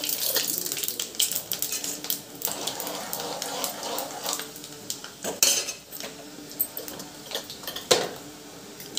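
Mustard seeds, cumin, urad dal and chana dal frying in oil for tomato upma, heard as scattered crackling pops and spoon-on-pan clinks over a steady hiss, close and moderately loud.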